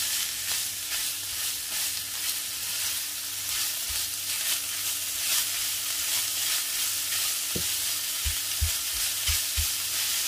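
Chicken pieces sizzle in a pan while being stirred, a continuous crackling fry overlaid with soft scraping, and a few sharper knocks of the utensil against the pan near the end; no one speaks.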